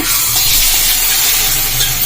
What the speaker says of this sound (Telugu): పోపులో అయితే జీలకర్ర ఆవాలు ఎండుమిర్చి కరివేపాకు నేనైతే కొద్దిగా పసుపు వేసేసుకుంటా